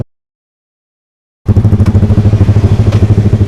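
After a moment of silence, a motorcycle engine starts up close and loud, revving in a rapid, pulsing throb.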